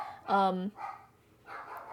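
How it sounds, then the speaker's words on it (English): A dog lets out one loud, close, tonal bark, followed by two fainter, shorter barks with quiet gaps between them. "the dogs are gonna start barking"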